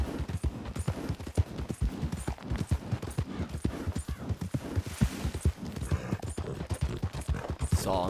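A horse's hooves clip-clop at a brisk, steady rhythm while the rider travels in Red Dead Redemption II, the hoofbeats loud and close, with background game ambience behind them.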